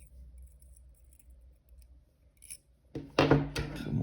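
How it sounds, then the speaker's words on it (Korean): Sharp snip of nippers trimming the brass binding wire on a handmade oboe reed, a quiet close click followed by a brief scrape and rattle of metal after a near-silent pause. "너무 길게 잘라서 조금만 잘라주고 작업을 할게요."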